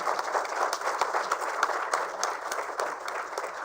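Steady audience applause at an awards ceremony for sanitation, a dense, even patter of many hands clapping throughout, moderately loud and unbroken, with no talk over it.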